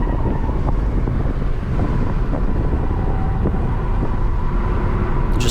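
A Ford Fusion family sedan lapping a race track, its engine a steady loud drone with heavy wind rush, continuous and unbroken from start to end.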